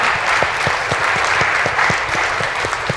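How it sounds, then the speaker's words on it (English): Steady audience applause at a Middle East vegetarian conference, a dense continuous wash of many hands clapping at close range with a few sharper individual claps standing out. "I also applaud them."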